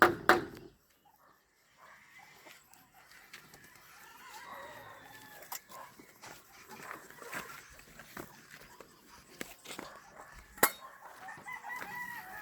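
On a rural farm, chickens cluck in scattered bursts and a rooster crows clearly, with a dog and faint background voices adding to the soft, intermittent yard sounds.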